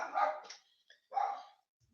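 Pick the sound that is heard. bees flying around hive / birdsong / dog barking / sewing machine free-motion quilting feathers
dog barking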